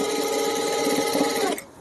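Sewing machine running steadily while stitching a children's lehenga, a loud continuous motor whir with rapid needle chatter that cuts off abruptly just before the end, with no voices.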